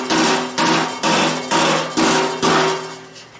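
A hammer taps sheet metal on a rusty 1956 VW Beetle gas tank six times at an even, unhurried pace, each strike ringing briefly with a bright metallic tone, close by.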